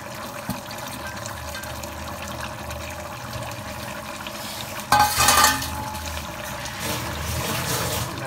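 Fish pieces drop into curry cooking in a pan, giving a sudden loud splashing sizzle midway, set against a steady low simmer and faint stirring.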